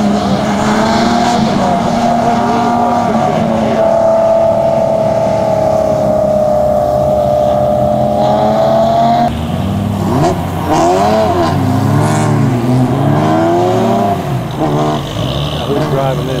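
A Corvair racing at an autocross at the 2009 Corvair CORSA Convention revs and accelerates hard with a droning engine tone that rises and falls through gear changes, while people talk over it throughout.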